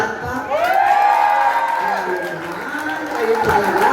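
A crowd at a town anniversary parade cheers and whoops loudly over a steady wash of applause, with shouting voices rising and falling throughout.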